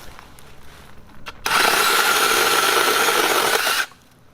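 An IMOUM 21V brushless electric 6 inch chainsaw cuts through a thick branch, a loud, steady high whine lasting about two seconds that starts and stops abruptly after quiet outdoor background.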